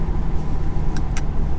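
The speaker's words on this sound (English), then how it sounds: "You still get the V8 sound when you give it some gas" Steady low engine drone from a Lexus IS 500 with a 5-liter V8, a continuous rumble held at a near-constant level, with a couple of brief higher-pitched chirps partway through.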